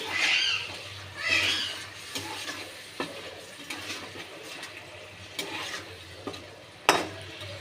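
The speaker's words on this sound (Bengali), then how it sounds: "একটু নেড়ে দেবো।" A curry with ground cashew paste is stirred in a pan, with a low sizzle running underneath and scraping strokes at an irregular pace plus occasional sharp clicks from the utensil, heard close up.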